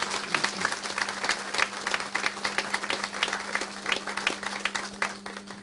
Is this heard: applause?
yes